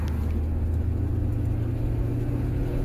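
A 1999 Ford Ranger engine held at wide open throttle in third gear, a loud steady low rumble and drone that runs unbroken throughout, with no voices over it.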